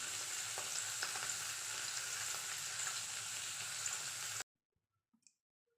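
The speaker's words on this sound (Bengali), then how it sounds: "আমি এখন মাছগুলি একে একে ভেজে নেব।" Chapila fish frying one by one in oil, a dense continuous sizzle with faint crackles, close and steady, cutting off abruptly into near silence with a couple of soft clicks.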